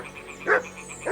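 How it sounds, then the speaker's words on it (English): A dog in the medieval video game Kingdom Come Deliverance 2 gives two short, fairly close barks, one after the other, over a faint background ambience. "Also, Mutt's barking at something up there"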